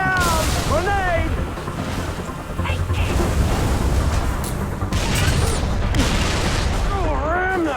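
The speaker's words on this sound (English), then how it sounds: "Get down! Grenade!" Grenade blasts and heavy combat in the video game Halo 3 ODST, with booming explosions and rolling gunfire layered under loud, shouted in-game voices throughout.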